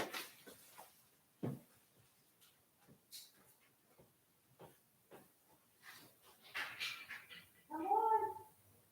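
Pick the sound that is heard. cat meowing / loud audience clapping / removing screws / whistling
cat meowing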